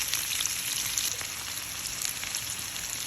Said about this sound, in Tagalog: igisa ang bawang at sibuyas